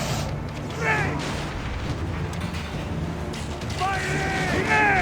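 Cannon fire rumbles from a ship in the video game Assassin's Creed Origins, low booms and mechanical clatter beneath shouting voices and a steady drone.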